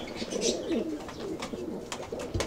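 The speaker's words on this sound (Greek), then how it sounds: "Αυτά είναι τα περιστέρια," Pigeons cooing at a loft, several soft throaty coos overlapping close by, with rustling and faint chirps in the background and no talk.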